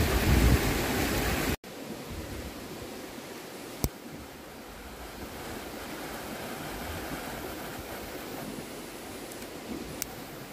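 A swollen river running high beside the Nakatoya campsite, a steady, even rush of water filling the background with no talking, after a brief louder burst at the start.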